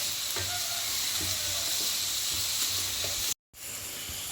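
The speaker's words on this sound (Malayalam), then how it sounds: "സവാള ഇട്ടതിന് ശേഷം നന്നായി ഇളക്കണം" Chopped onions sizzling and frying in a pan for green peas egg masala, a steady close hiss with soft stirring scrapes, broken by a brief cut near the end.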